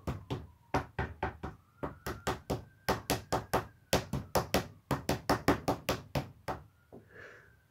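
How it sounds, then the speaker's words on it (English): Someone bashes on a door in a long run of loud, evenly spaced knocks grouped in quick bunches, close and insistent, with no talk. "Will you two nerds open this door? Been bashing for 40 minutes."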